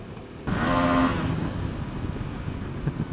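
A Yamaha Tracer 700 motorcycle engine blips sharply in a quick rev, then settles into a steady nearby running drone with wind noise.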